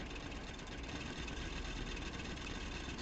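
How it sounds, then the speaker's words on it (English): A steam engine runs in a factory-building video game with a low, steady mechanical hum and rumble. The sound is even and unbroken, fairly quiet, and no one talks over it. "there's a steam engine."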